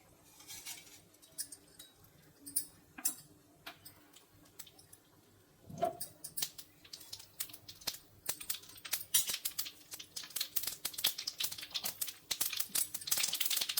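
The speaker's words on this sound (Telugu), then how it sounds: "ఆవాలు చిటపటలాడుతున్నాయి కదా" Mustard seeds crackle and spit in hot oil while tempering for pulihora, sparse pops at first that grow into dense, rapid spluttering, close by.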